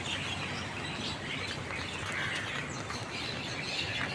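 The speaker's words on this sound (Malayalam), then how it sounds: "പക്ഷികളുടെ ഒച്ച കേട്ടോ" A dense, continuous chorus of bird calls and chirps from crows and other birds perched on power lines in Malaysia, steady and fairly loud with no talk.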